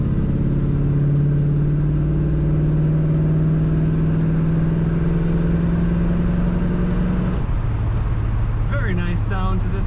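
A 1971 Chevrolet Malibu engine runs while the car is driven, giving a loud, steady mid-range hum that drops in pitch near the end as the car slows, with brief chatter at the close.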